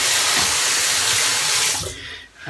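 Tap water runs in a strong, close splashing stream to rinse a Schick razor, steady for about two seconds before tapering off.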